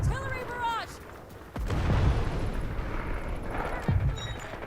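Artillery barrage in the Delta Force shooter game: heavy booming blasts and rumbling impacts roll through continuously, with a rising explosive surge partway in, over faint in-game radio chatter.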